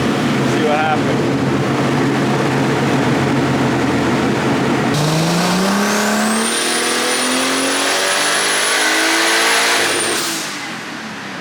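Boosted BMW E36 with a built engine and journal-bearing turbo wails on a dyno, a loud sustained pull climbing steadily in pitch before cutting off and easing down near the end, with someone speaking briefly over it.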